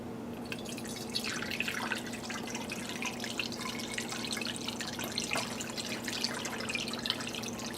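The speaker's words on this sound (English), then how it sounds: "And I'm just going to pour this in." Homemade walnut milk pours from a jar into a bottle, a steady trickling, dripping stream of liquid heard close and continuous with no talk.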